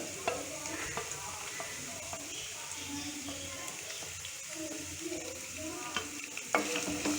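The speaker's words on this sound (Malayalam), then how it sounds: "ഇതെല്ലാമായിട്ടൊന്ന് നന്നായിട്ട് വഴറ്റി കൊടുക്കാം." Grated coconut sautéed with ginger, garlic and green chili in a pan for a breadfruit stir-fry, a steady close sizzle with scraping stirs and occasional spoon taps, quiet and continuous.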